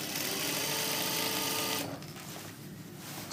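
A domestic sewing machine stitches an invisible zip into a seam, running in a loud, fast, steady whir that stops abruptly partway through, leaving quieter room noise.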